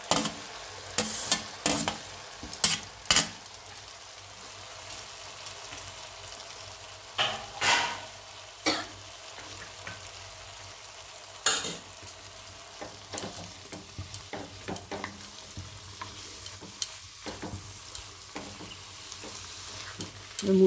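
Radish frying in a pan with potato and peas for a vegetarian ghonto, with a soft steady sizzle and repeated scraping stirs of a spatula at irregular intervals.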